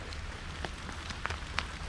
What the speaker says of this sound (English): keep the rain from just like hitting me in the face the whole time